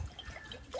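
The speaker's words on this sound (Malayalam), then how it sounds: "അതിലേക്ക് ഒരു അര ലിറ്റർ വെള്ളം ഒഴിക്കുക." Half a litre of water pours into an uruli pot while paladai payasam is prepared for an Onam feast: a short, soft trickle and splash, close and quiet, with no voices.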